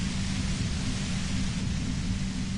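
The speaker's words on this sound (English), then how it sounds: "you can do it through the white noise" Steady broadband white-noise hiss from the Disco Elysium video game, constant and even in level throughout, with no voices.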